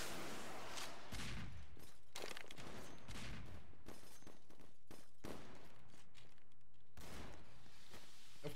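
Gunfire in a weapon-kit shooter video game: several sharp, loud rifle shots crack in irregular bursts, some close and some farther off, over a rumbling background of game noise.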